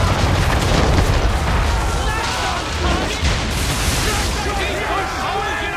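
Cannon fire booms from a sailing warship in Assassin's Creed III during a naval battle, dense rumbling blasts rolling over one another with shouted crew voices mixed in throughout.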